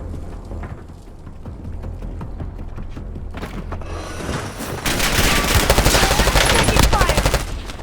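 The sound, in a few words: gunfire in a video game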